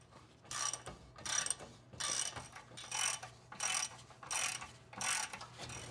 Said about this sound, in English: tighten down the rest of your bolts